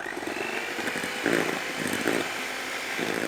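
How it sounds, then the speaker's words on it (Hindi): Electric beater whipping cream for homemade mango ice cream, a steady close motor whine with a slightly rough, fluctuating tone as the beaters work through the cream, no speech. "अब इसको थोड़ा विप करेंगे ताकि अच्छी तरह से कलर मिक्स हो जाए।"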